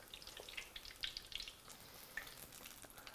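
Onion weed deep frying in hot oil, turned with a frying spider; a soft, steady sizzle with scattered small pops and crackles, close and alone without talk.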